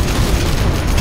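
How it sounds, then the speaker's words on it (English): A loud, dense roaring blast from a particle cannon in C&C Generals Zero Hour fills the whole moment with a continuous heavy rumble and crackle. "Particle cannon activated."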